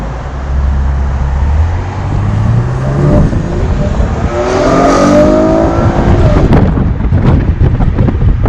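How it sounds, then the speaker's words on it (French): A Chevrolet Camaro RS with a V6 engine revs, its tone climbing through a rising sweep and then blending into loud, rushing wind noise as it pulls away nearby. "Elle sonne bien quand même pour un V6."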